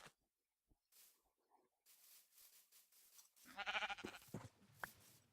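Sheep bleating in the farming video game Magic Farm 2, a couple of short bleats standing out over quiet game ambience, moderately close and fairly faint.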